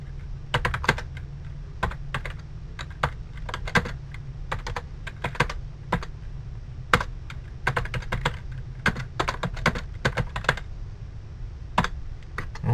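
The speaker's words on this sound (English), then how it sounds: "I have my facts and figures, which I will now type in." Fingers typing on a computer keyboard during an HTML coding lesson, with quick irregular bursts of close, crisp key clicks and short pauses throughout.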